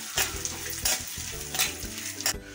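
Coarsely ground peanut powder being roasted and stirred in a pan, with crisp sizzling and repeated spatula scrapes against the metal in an uneven rhythm, close and without voices.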